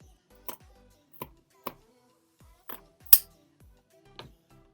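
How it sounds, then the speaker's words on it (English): Scissors snip through a woven hot pad to free it from a loom: about six sharp, separate cuts spaced irregularly over a few seconds, close and crisp against near silence. "Grab your scissors and then cut right in the middle,"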